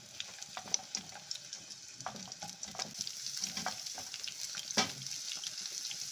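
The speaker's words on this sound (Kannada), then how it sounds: "ಈಗ ಮೀಡಿಯಮ್ ಸೈಜು 2 ಈರುಳ್ಳಿ ಹಾಕ್ಕೊಳ್ತಾ ಇದ್ದೀನಿ." Two medium chopped onions fry in oil for a Karnataka bean saaru, giving a close, moderate sizzle with repeated stirring scrapes and taps throughout.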